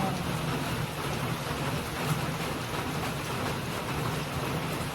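Heavy rain pours steadily at home, a dense even wash of noise with no break across the whole stretch.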